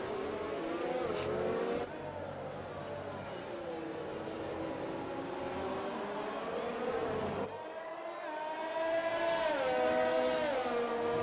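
F1 race cars lapping a Mexico circuit in a PC racing game, engines whining and shifting pitch as they sweep through corners, continuous and fairly loud, with a second car's tone rising near the end.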